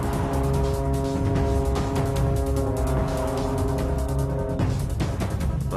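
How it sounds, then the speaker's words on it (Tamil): A car's engine drones low and steady close by as it pulls up, a continuous motor rumble that shifts in tone near the end with a brief scuffing noise. "ராமசாமி வண்டி வந்துருச்சு"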